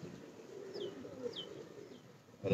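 Low pigeon cooing murmurs around a building at the Rawalpindi Gymkhana, with three faint, high chirps from small birds above it and a brief rustle at the end.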